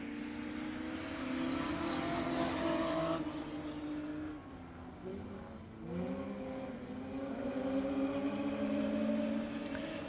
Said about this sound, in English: We'll listen for the RPMs to pick up over in turn 3.